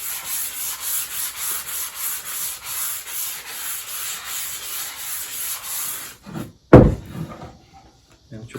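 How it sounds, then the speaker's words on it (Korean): Wood is hand-sanded with sandpaper during a youth carpentry class, a steady rhythmic back-and-forth rubbing for about six seconds, then a few knocks and a louder thump before near silence. "샌딩 작업을 하시면 됩니다."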